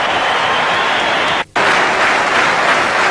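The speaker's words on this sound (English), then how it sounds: "we're getting the loud clap here from the Adelaide supporters" A dense, loud wash of clapping rises from Adelaide supporters at an Australian rules football match, sustained and crowd-wide with one brief drop before swelling again.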